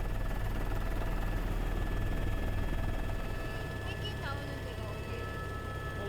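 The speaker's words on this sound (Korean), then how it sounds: "생태 환경 조사를 맡은 연구원들이 헬기로 정찰을 시작했다." A research helicopter flies over the snow and ice of Antarctica at Cape Burks, its rotor and engine making a steady, loud droning hum throughout, under narration.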